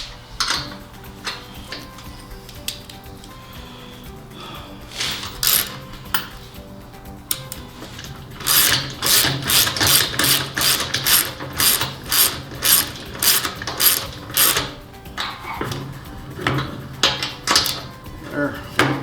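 A hand wrench ratchets bolts on a Craftsman 3500/4350 watt gas generator. Quiet clicks give way to a fast, loud run of rhythmic ratchet clicks up close, with occasional speech in the background.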